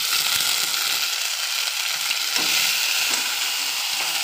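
Spice paste sizzling in a hot pan for a potato and egg omelette curry, a loud, steady frying hiss with occasional soft stirring scrapes, close and uninterrupted.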